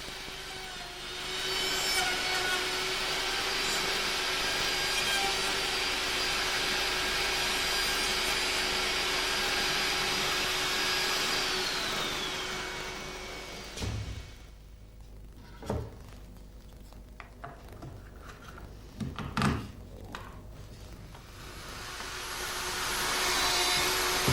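Router cutting recesses in wood with dust extraction running: a steady, loud whining roar for about twelve seconds, then it stops, leaving a few sharp knocks and handling clatters before the extractor hum swells again.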